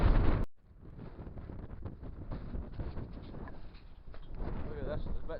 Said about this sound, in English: The wind here is incredible folks.